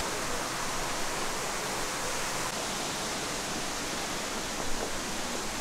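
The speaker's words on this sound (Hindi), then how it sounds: "फाइनली हम लोग करंगसुरी वाटरफॉल्स पहुंच ही गए" Krangsuri waterfall near Shillong in Meghalaya pours in a constant, dense broadband roar, steady and unbroken from start to finish.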